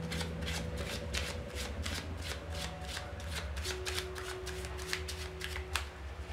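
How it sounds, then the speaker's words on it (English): A deck of playing cards is shuffled close up for a magic trick, giving steady rapid riffling and flicking bursts that repeat without pause over a low background hum, with no voices. "we go up to the spectator and shuffle the cards"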